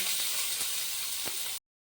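Chopped onion hits hot oil with cumin seeds and sizzles in a close, steady hiss for about one and a half seconds before cutting to silence, with no talk.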